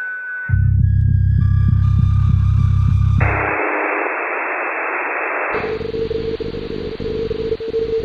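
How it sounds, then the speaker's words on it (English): Electronic radio tones: a few beeps, then a pulsing low buzz, followed by bands of hissing static and a steady tone, loud and continuous. "Radio tones."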